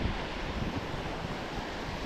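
Rough sea waves, a steady loud broadband wash of surf and water noise with wind buffeting the microphone, continuous and without talk.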